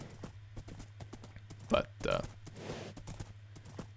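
Footsteps of a horse in Minecraft, a soft repeated clip-clop with steady hoofbeats while someone talks over it.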